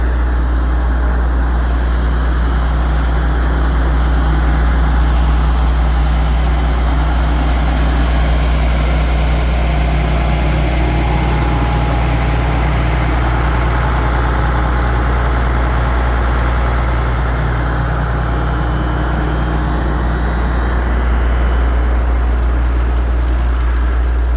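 A firewood processor's engine runs and warms up on a cold February morning, a loud, steady low-pitched idle drone that holds constant throughout with no speech.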